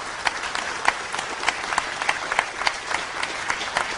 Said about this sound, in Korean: 박수 다시 한번 보내주시기 바랍니다